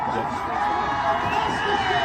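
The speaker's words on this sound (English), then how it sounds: "the home crowd ecstatic" A home crowd at a high school varsity football game, Foothill versus Tustin, roars and cheers after a touchdown, a steady excited mass of voices with shouts and whoops over the short stretch.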